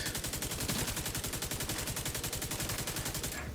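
Rapid, steady automatic gunfire in a video game, a continuous rattling burst of shots that runs unbroken and cuts off abruptly at the end, with no talking.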